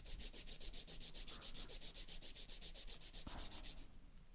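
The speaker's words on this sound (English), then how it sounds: "Step 2 is filing straight out from the nail groove on the left." A hand file rasps across a sculptured acrylic-gel nail in quick, even back-and-forth strokes, roughly eight per second, close and steady before stopping abruptly near the end.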